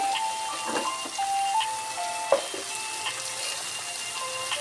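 Bitter gourd pieces fry in oil in a pan, giving a steady, moderately quiet sizzle with faint crackles and one sharper pop near the middle, with no talking.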